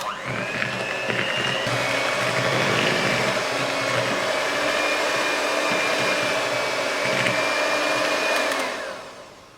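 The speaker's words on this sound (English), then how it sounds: "Now we'll beat the butter and sugar for about 3 minutes until they are silky and creamy." An electric mixer beats butter and brown sugar for a Christmas cake, giving a steady, loud whirring drone close by that holds for several seconds, then winds down near the end, with no talk.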